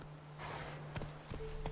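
Roach, a horse in The Witcher 3, trots with clip-clopping hooves, a few distinct footfalls over a steady low game hum, fairly close and moderately loud.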